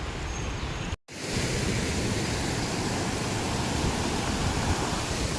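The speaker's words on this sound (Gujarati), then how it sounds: "ધોધમાર વરસાદ છે આજે જો તમે." Heavy downpour of rain in Liliya, a loud, unbroken roaring wash of falling water close by, interrupted only by a split-second dropout near the start.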